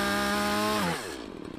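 Loud chainsaw runs steadily, then its pitch drops sharply as the chain bites into a pair of chainsaw-resistant pants worn on a man's leg, bogging and sputtering as the fibres jam it.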